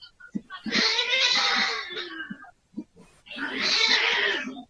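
Cats fighting, heard as two long bursts of loud, close yowling and screeching separated by a brief pause, with short sharp cries in between.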